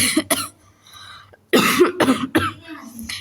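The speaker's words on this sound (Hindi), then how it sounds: "खांसी आ रही मुझे" A few harsh coughs, one early pair and a louder cluster later, close up with a quiet gap between them.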